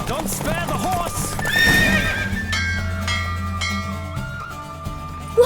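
A horse in The Witcher 3 neighs loudly near the start, then its hooves clatter in a quick galloping rhythm, close and prominent over layered game music and ambience.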